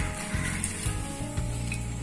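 Steady bubbling and hissing of water boiling in a pot, close by and continuous, with a low hum underneath.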